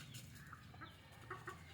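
A country rooster clucks softly several times at a distance, faint and low against a quiet outdoor background.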